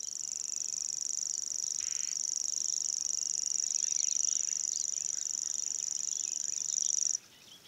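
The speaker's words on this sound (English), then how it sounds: "Corncrake is not a songbird, at least formally, unlike its frequent neighbour, the grasshopper warbler." A corncrake calling near the Vistula in Warsaw, a sustained dry rasping rattle that repeats quickly for about seven seconds and then stops abruptly, heard fairly close over quiet outdoor background.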